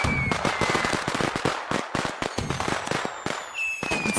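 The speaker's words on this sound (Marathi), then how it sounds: "झाली बाई फटाक्यांची हजारी माळा सुरू." A long string of firecrackers going off at home during Diwali Dhanatrayodashi, rapid loud cracking bangs in dense uneven bursts, close and continuous.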